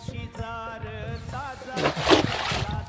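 A cast fishing net lands in a Konkan tidal creek with a sudden, close splash and slosh after someone talks, the water noise spreading over the last second.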